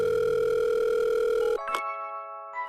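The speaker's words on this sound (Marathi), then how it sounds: "आला फोन, आला फोन" A telephone call tone sounds loud and steady, then cuts off abruptly, followed by brief faint electronic beeps on the line.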